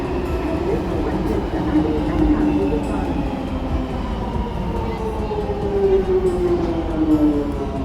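A London Underground train rumbles steadily along, with rising and falling metallic whines from the wheels and motors and a continuous low roar.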